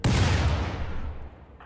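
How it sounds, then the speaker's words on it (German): A burst of explosions in the colony-building video game Rimworld erupts at full loudness, a dense crackling boom that rolls on and slowly fades over nearly two seconds, with no voices. "Ohne Vorwarnung, die explodieren einfach."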